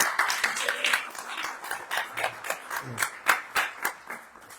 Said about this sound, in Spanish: Un aplauso para esa respuesta